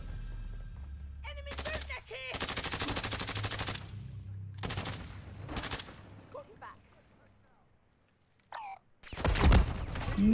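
Bursts of rapid automatic fire come from an MTZ-556 rifle in Modern Warfare 3. The loud volleys are separated by short quiet gaps, and a voice speaks at moments between the shots.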